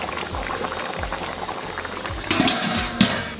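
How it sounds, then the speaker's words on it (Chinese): Pork and cabbage stew bubbles in a covered pot, a loud, continuous rolling boil with gurgling bursts that swell near the end. "盖盖咱们给它炖上20分钟"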